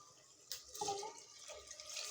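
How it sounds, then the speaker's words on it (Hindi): Water poured from a vessel onto sautéed lentils in a cooking pot while making rajma, a short splashing burst followed by a steady trickle, close and moderately loud. "इसमें पानी ऐड करते हैं हम।"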